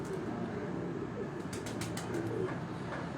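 Pigeons being readied for a pigeon-flying contest coo low and steady, with a few quick bursts of flapping wings close by amid outdoor background noise.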